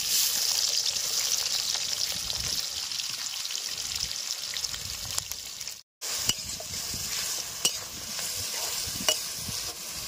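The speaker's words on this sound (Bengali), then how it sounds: "সাদা তেল, পেঁয়াজ, ক্যাপসিকাম, রসুন সব ভেজে নেবো তেলে" Onion, capsicum and garlic fry in white oil, giving a steady close sizzle broken by scraping stirs and a brief silent gap.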